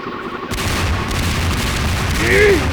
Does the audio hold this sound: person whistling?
no